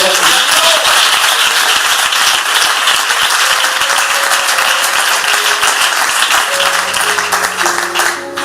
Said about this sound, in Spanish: Le aplaudimos al Señor en esta batalla